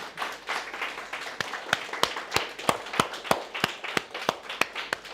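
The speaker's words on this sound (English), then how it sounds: "Give him a round of applause." Sparse, scattered clapping from a small audience at a 2023 foundation day celebration for an eye institute, individual hand claps spaced irregularly over a quiet background rather than full dense applause.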